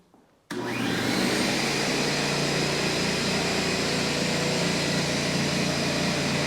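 A 1.6 horsepower, 26 gallon air compressor starts up abruptly after a brief quiet moment, then runs with a loud, steady motor drone and hum that stays constant throughout, with no talking.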